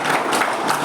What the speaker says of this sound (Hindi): और तालियां ऐसे बजाओ